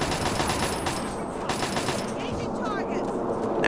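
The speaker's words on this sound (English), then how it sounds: "You guys are shooting at me." Rapid machine-gun fire from enemies shooting at the player in Fallout 3, a dense continuous rattle of bursts filling the whole stretch with little pause, loud and near.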